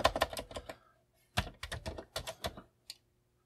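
Typing on a Commodore 64 keyboard, close and crisp, with bursts of quick key clacks, a short pause, then another run of keystrokes and a final single tap.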